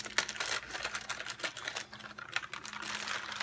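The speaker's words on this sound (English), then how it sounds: "I'm trying to get it out of the plastic bag." A thin plastic bag crinkles and rustles as a small doll is worked out of it, giving a continuous run of close, crisp crackles and snaps with no talking.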